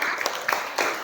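Scattered classroom applause from students, a few uneven bursts of clapping close by, short and light with no talk over it.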